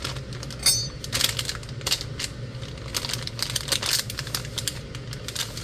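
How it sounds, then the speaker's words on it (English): Knife slicing peppers on a plastic bag, irregular crisp taps and crinkles, close and moderately loud, with no talk. "I'm cutting them on the bag, by the way, because I don't know what our cutting board is."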